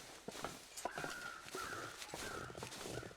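Crows in The Long Dark video game give a few harsh, repeated caws at moderate distance, spaced across a quiet outdoor game soundscape with soft noises underneath.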